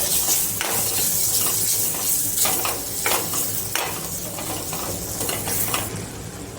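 Tomatoes are added to a frying pan of Jain Kathiawadi-style paneer bhurji with gram flour roasting in it, giving a loud, steady close sizzle with intermittent stirring scrapes and no talking.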